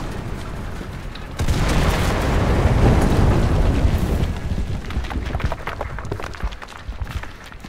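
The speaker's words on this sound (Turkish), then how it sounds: "Bu da patlama diyorum" An explosion in the video game Enlisted erupts suddenly into a loud, broad roar, rumbles for a few seconds, then falls away into scattered crackling debris and distant battle noise.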